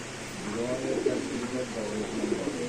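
Soft, low coos of racing pigeons at a wholesale pigeon market repeat through the clip over a steady background hum, with a faint murmur of voices.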